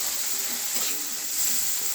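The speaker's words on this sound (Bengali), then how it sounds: "তেলের মধ্যে এবার চিংড়ি মাছগুলো ছেড়ে দেবো।" Prawns sizzle as they are dropped into hot oil in a pan, a steady close crackling hiss that holds evenly throughout with no voices.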